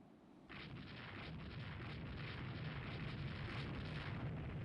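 Warship guns fire in the naval strategy game Rule the Waves 3, a dense, continuous roar of booming artillery that swells in after a quiet start and holds loud and steady with no talk.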